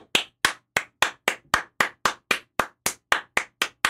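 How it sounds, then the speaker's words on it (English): A single person claps slowly and evenly, about fourteen sharp, loud, isolated claps at a steady rhythm, close and alone with no talking. "Round of applause for Belt."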